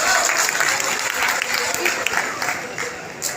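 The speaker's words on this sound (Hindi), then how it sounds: "मैं चाहूंगा कि ये जोरदार ताली भी गड़गड़ाहट से स्वागत करता हूं।" Applause from an audience welcoming veteran classical dancers at a BCCL employees' cultural programme, a dense steady clatter of hand claps sustained throughout with voices mixed in underneath.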